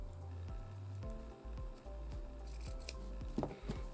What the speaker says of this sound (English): So just with the tips of your scissors, you make a little pie shape